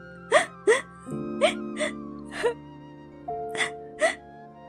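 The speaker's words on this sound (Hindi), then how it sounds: "उन्हें रास्ते में एक बच्चे की रोने की आवाज सुनाई दी" A child cries in short sobbing whimpers and gasps, about seven separate bursts, over a sustained musical drone in a Hindi moral story.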